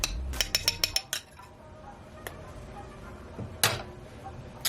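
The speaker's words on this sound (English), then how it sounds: "let me move the spoon" A metal spoon clinks against dishes and a small glaze bowl while garlic honey glazed salmon is prepared, with a quick cluster of sharp taps at the start and a few scattered clinks afterward, close and fairly quiet.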